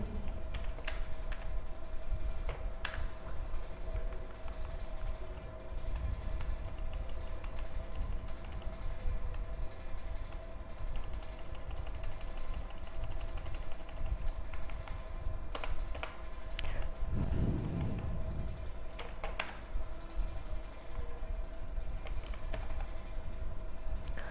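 GW-BASIC program keyed in on a computer keyboard, steady clicky typing over a constant low hum for the whole stretch, with a short louder knock about two-thirds through, no talk.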